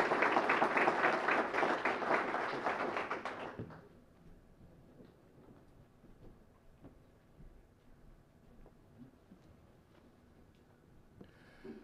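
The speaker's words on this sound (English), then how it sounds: "Let's give them a round of applause" Dense, loud applause from the audience at a hall of fame induction ceremony honoring high school Heisman winners fills the first few seconds, then stops abruptly, leaving a quiet room.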